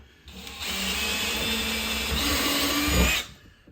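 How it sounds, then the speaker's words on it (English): A power drill whines steadily for about three seconds, boring through wood and metal at a constant pitch, then stops abruptly. "I'm drilling all the way through the wood at the same time."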